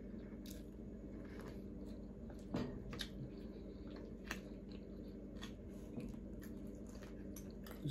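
Close, quiet chewing of a salad with eggs and sardine: soft wet squishes and bites repeat steadily over a low room hum, with no talking.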